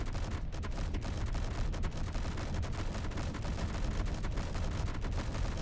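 Rapid continuous gunfire from the guns of an F-302 spacecraft in a video game build, a dense unbroken stream of shots at steady loudness throughout.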